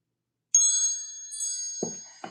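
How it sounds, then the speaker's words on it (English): A bright chime sound effect rings out, a sustained tinkling bell tone that slowly decays, followed by two short low thuds near the end. "You want a little extra chimes?"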